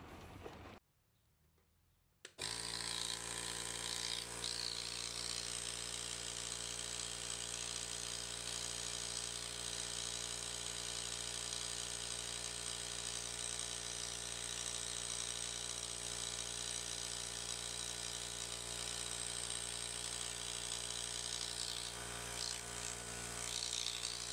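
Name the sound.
Einhell Pressito hybrid compressor inflating a tyre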